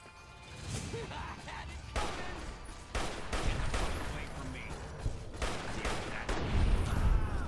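A battle rifle in Fallout New Vegas fires a string of loud, sharp shots in irregular bursts, each crack trailing into a short echo, with some impacts and thuds between them.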